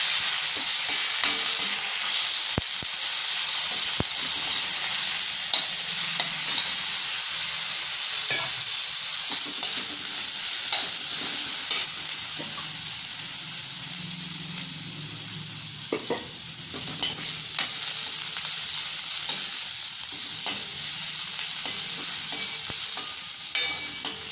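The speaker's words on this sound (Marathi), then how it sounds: "थोडंसं तेल टाकायचं जास्त नाही चांगल्या खरपूस भाजून घ्यायचं" A steady, hissing sizzle from ridge gourd peels dry-roasting in a pan with a little oil, with occasional scraping and stirring clicks throughout, close and continuous.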